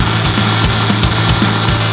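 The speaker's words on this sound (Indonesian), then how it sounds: "Seru juga nih ngebor-ngebor mobil kayak gini." Power drill boring into the body of a Mitsubishi Triton Ultimate pickup, a steady loud whirring grind with repeated low pulses as the bit bites, continuous and close with no talking.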